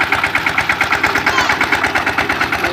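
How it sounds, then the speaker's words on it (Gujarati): A Steel Tech mini tractor engine runs for pesticide spraying in a mango orchard, a loud, steady, rhythmic chugging held close throughout. "આપણે ટ્રેક્ટરથી દવા છાંટીએ ભાઈ. ટ્રેક્ટર છે મિની ટ્રેક્ટર સ્ટીલ ટેકનું."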